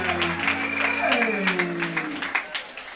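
Wedding guests at a religious ceremony clap in a loose, steady patter beneath singing and speaking voices, close and moderately loud.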